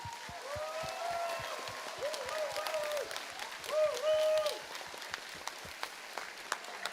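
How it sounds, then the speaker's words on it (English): Applause for teams at the FTC Benelux robotics championship, Jacobs Division, at the American School of The Hague: a steady crowd clapping in a large hall, with music tones and some voices mixed underneath. "So I want to give a big round of applause for all teams that have played today."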